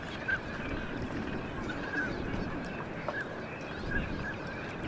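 Tame local decoy ducks at a wetland trap call out in a few short, faint honking quacks spread across a steady low outdoor hum, with no talking heard.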